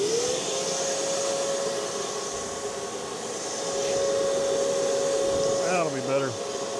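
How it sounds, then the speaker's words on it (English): A clogged vacuum runs with a steady, loud motor whine and constant hum; a brief burst of voice or movement near the end. "All right, vacuum was clogged up."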